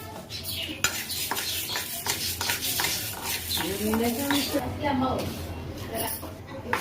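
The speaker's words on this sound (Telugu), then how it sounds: "తర్వాత మినపగుళ్ళు ఫ్రై చేసుకున్నాము" Urad dal frying in a pan, a gentle sizzle under repeated metal spoon scrapes and clinks as it is stirred, with a voice speaking over the cooking.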